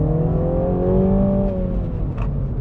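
A 2020 MINI Cooper S engine revs up loudly and close, its pitch rising then easing back in one sustained sweep, with a couple of brief pops near the end and no voices.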